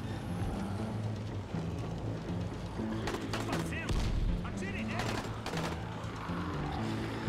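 Gunfire in Dying Light The Following: several sharp shot bursts crack mid-way over a steady background of game noise and music, with someone talking underneath.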